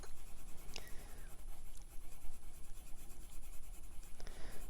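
A colored pencil or marker scratches softly across paper laid on a foam pad, with steady strokes and a few sharper squeaks, close and quiet.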